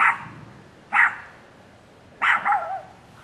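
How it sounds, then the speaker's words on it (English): A neighbor's dog barks nearby in a quiet backyard, giving a single bark, then another, then a quick pair of sharp barks after a pause. "You'll have to pardon the neighbor's dog as usual."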